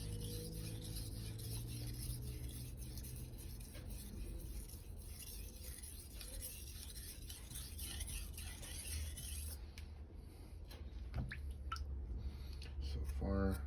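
A knife blade is worked across a Naniwa Multi-Stone combination whetstone, 1000/3000 grit, giving a steady, close, smooth rubbing and rasping stroke sound that continues throughout, with a faint breath of voice underneath.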